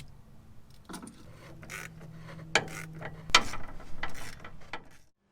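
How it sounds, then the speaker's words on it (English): A ratchet tightening bolts on a Ford 4.9L engine during a head gasket rebuild, heard as a few close, sharp bursts of quick clicking separated by short pauses. "I'm going to get these bolts cinched up"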